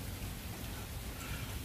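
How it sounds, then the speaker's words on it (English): Rain pours down outdoors, a dense steady hiss of drops on surfaces with no breaks, fairly loud and even throughout. "Oh, the rain is coming down"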